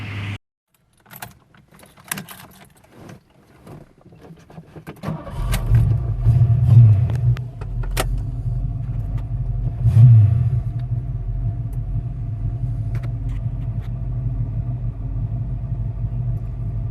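Keys jangle and clatter, then a 1985 Ford Mustang GT engine cranks and starts, briefly revs and settles into a steady low rumbling idle.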